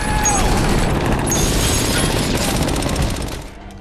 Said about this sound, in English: Stun grenades are then thrown through the windows by the FBI, causing disorientation for the thieves.